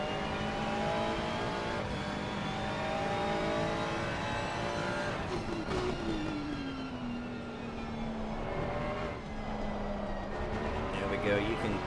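Ferrari race car in a sim racing event at Oulton Park, its engine whining and shifting pitch as it works through corners, heard under broadcast commentary against a steady background of other engine drone.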